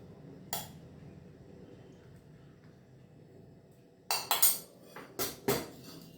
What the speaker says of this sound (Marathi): भाजी वाढून घेते।